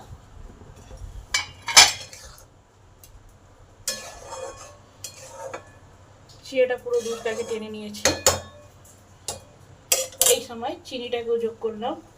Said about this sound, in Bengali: পাঁচ মিনিট পর চাপাটা খুলে দেখি কি অবস্থা